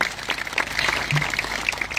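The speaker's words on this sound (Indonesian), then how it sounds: "Beri tepuk tangan yang Maria." Congregation applauding at an evangelistic church revival service, a steady mass of hand claps filling the space at moderate loudness without voices.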